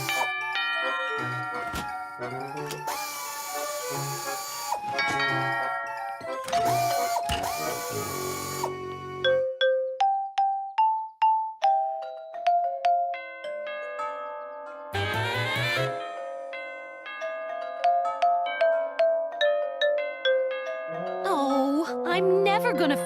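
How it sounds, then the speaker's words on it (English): Door chimes in a cartoon household ring out one after another as things are opened, each with its own tune, a string of bright tinkling and ding-dong notes, some quick and some sustained, under musical backing. "We could add a door chime to everything that opens,"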